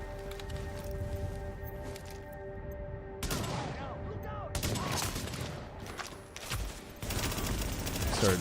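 Bursts of gunfire in a survival shooter game, rapid shots cracking out in clusters over steady game ambience, loud and close.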